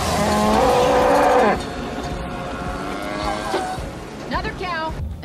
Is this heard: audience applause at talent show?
no